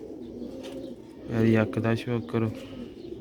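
Old Sialkot-breed rooftop pigeons cooing close by in a short rhythmic series of low throaty coos, heard under someone talking.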